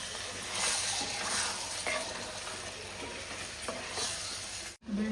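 Mutton curry with okra being stirred in a pan, a steady sizzling frying hiss with soft scraping strokes of the spoon throughout, close and moderately loud, ending in a brief cut.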